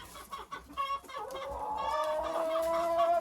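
Laying hens cluck close by, a few soft clucks building into a louder, drawn-out cackle.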